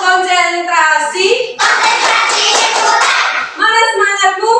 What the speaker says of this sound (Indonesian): Tepuk konsentrasi. Konsentrasi dimulai.